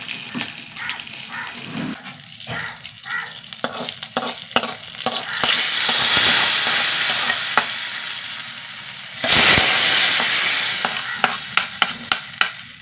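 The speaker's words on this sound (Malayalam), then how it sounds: "കുറച്ച് കടുക് രണ്ട് വറ്റൽമുളക് കറിവേപ്പില" Mustard seeds, two dried red chillies and curry leaves fry in hot oil, crackling and popping up close as stirring clicks and scrapes punctuate a sizzle that swells louder midway, with no voices.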